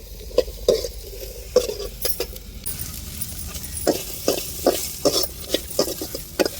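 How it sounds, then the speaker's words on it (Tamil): Chopped okra is sautéed and stirred in a pan, with a spatula scraping and tapping in irregular strokes over a steady sizzle, fairly close and with no talk. "இப்படி வதக்கி எடுத்துறனுங்க வெண்டைக்காவை"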